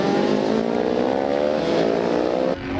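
Triumph 675 Daytona racing motorcycle at a street race, its engine wailing in a loud, sustained high-revving tone that climbs steadily as it passes, then drops off abruptly near the end.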